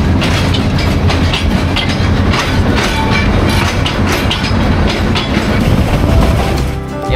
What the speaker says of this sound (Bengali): ক্রসিং ট্রেন চলে এসেছে।